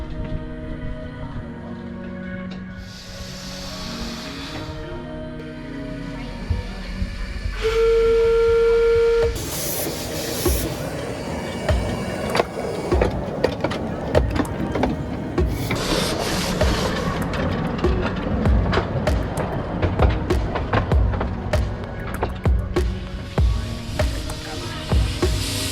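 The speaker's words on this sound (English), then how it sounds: "the sounds and smells of a steam train environment." A miniature steam engine on the Rudyard Lake Steam Railway in North Staffordshire chuffs and rumbles along with hissing bursts and a short shrill whistle partway through, mechanical clatter throughout.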